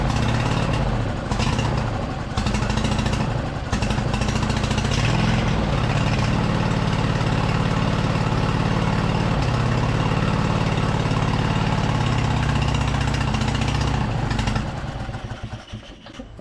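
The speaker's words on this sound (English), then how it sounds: "that definitely sounds like it's hitting on both cylinders and sounds pretty smooth" A scrapyard Craftsman V-twin small engine runs steadily and smoothly on both cylinders, loud and close with a constant throaty drone, before tapering off at the end.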